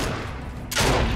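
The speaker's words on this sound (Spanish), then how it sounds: "Ahí estoy escuchando un par de disparos." A sudden burst of rapid gunfire in Fortnite erupts near the end, loud and close, after a stretch of low background rumble.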